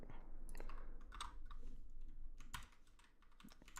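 Computer keyboard keys are pressed in quick irregular bursts of crisp clicks and taps, close by and fairly quiet, with no talking.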